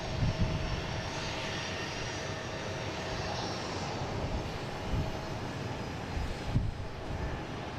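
Airliners taxiing at Boston Logan airport, including a Lufthansa jet, give a steady distant engine rumble and whine that stays even throughout, with faint low thumps and no talking.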